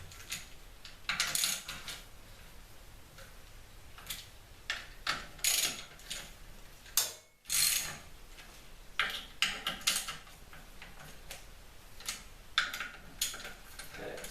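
Ratchet clicking as clutch bolts are tightened in a crisscross pattern on an SL-C build, with rapid bursts of light metallic ticks and small clatters at close range and no talking.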